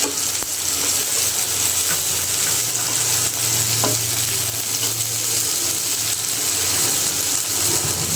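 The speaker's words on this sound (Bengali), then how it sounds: "এই দিলাম চিংড়ি মাছ, এটা ভাজি করে নিব" Shrimp fry in a pan with a continuous dense sizzle that stays even and close throughout, with a faint low hum underneath and no talking.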